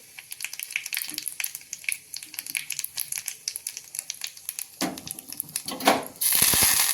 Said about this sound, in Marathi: आपण थोडीशी मोहरी टाकू थोडीशी जिरे टाकू